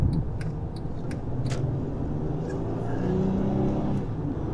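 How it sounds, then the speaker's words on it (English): A 2009-2015 Honda Pilot drives on a back road, its engine and road noise rising in a steady mild acceleration while braking gently to bed in freshly rebuilt front brakes; continuous low rumble throughout, no talk. "And then I'll do a few things like accelerate mildly while also braking mildly"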